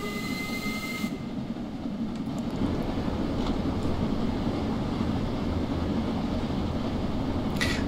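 An LMS Jubilee Class steam locomotive running in Train Sim World 2, a steady rolling rumble with wheel and track noise that holds throughout after a brief change near the start, with no talk.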